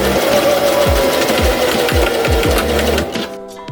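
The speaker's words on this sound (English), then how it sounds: "I just start with my needle in at the armpit and just begin sewing all the way around" A sewing machine stitches bias tape around the armhole of a dress, running in a fast, loud, steady mechanical chatter close by before slowing and stopping near the end.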